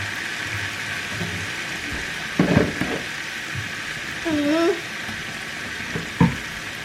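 Food sizzling in a frying pan while it is stirred for a vegan dinner, a steady hiss with a few scraping clatters of the spoon and a brief voice partway through.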